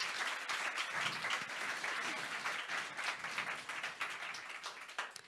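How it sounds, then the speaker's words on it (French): A conference audience applauds a speaker at the end of a talk, dense steady clapping with individual claps audible, lasting several seconds and tapering slightly. "Merci beaucoup Anne, on peut l'applaudir."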